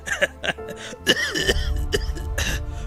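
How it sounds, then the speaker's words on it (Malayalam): A man, an ex-smoker with a lingering cough, coughs repeatedly in harsh, close bursts with short pauses between, some sounding like rough throat clearing. "അന്നേരം മുതൽ ഈ ചുമയും കൂടെ ഉണ്ട്"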